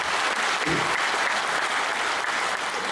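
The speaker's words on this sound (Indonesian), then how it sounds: "Tepuk tangan dulu biar semangat." A seated audience at a spiritual meditation talk breaks into applause, a dense, steady clatter of many hands clapping at close range, filling the room without pause for a few seconds.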